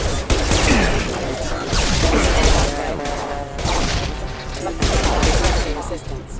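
Repeated bursts of sci-fi weapon fire in a Mass Effect Legendary Edition firefight, loud and close, with crackling shots and impacts in several clusters over the background.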